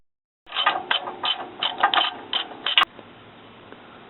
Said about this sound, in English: we can take out these 12mm bolts in here that hold the CrossMember to the transmission mount